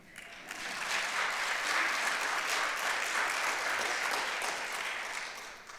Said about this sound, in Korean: 박수 한번 하셔도 괜찮아요.